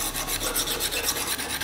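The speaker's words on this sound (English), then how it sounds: "Let's dull this knife. Get it nice and dull for you guys." Steel knife edge rubbed back and forth to dull it, a close, loud continuous rasp pulsing with quick repeated strokes.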